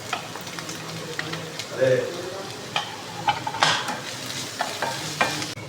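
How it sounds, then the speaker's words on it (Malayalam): Onions sauté in a pan with ginger, garlic and green chili, a steady close sizzle broken by repeated scrapes and clacks of a stirring spoon. "ഈ സബോള ഒന്ന് വഴന്ന് വരട്ടെ അതിലേക്ക് നമുക്ക് ഇഞ്ചി വെളുത്തുള്ളി ചതച്ചത് ഇട്ട് കൊടുക്കാം"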